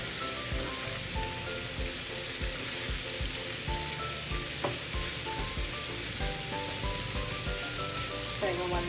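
Garlic shrimp frying in a pan, giving a constant dense sizzle with small crackles and faint rhythmic taps throughout, steady and close.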